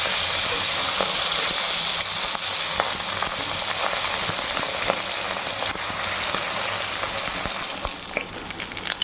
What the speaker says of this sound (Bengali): এখন মাছের মাথাগুলোকে সুন্দর করে ভেজে নেবো